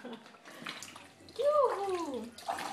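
Bath water for a baby splashes and pours during a hot-weather bath, a soft watery wash with a louder swell midway, while a voice and excited vocal sounds carry over it.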